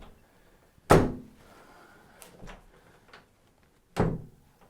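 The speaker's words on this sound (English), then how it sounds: "Have you ever tried closing the door and this happens?" Wooden interior door with a loose hinge leaf from stripped screws or a bent hinge knuckle, giving two sharp thuds as it fails to shut, separated by softer knocks and rattles.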